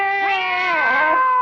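A person imitates a cat's meow in one drawn-out, whiny, wavering call that dips in the middle before rising, close and clear.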